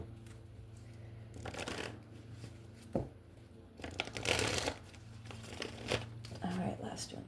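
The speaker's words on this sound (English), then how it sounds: "let's do 3 shuffles here for the sign of Pisces." Tarot cards are shuffled in several crisp, riffling bursts of papery flutter and slapping, close to the microphone, with a soft voice heard faintly in places.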